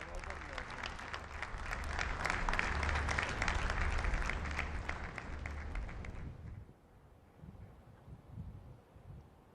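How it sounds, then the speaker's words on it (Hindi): Loud applause from a large crowd welcoming the Prime Minister at a hospital campus inauguration, dense clapping for about six seconds that then stops abruptly, leaving quieter ambient sound with a speaking voice. "आइए तालियों के गर्जन के साथ उनका स्वागत करते हैं"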